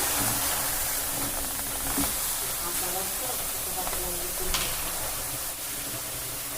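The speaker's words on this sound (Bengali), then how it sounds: "এই দেখো আমি গরম কড়াইতেই কচুর ডাঁটাগুলোকে একদম ঢেলে দিলাম।" Taro stalks hitting a hot wok give off a steady steaming hiss with a faint sizzle, continuous throughout the clip and fairly quiet.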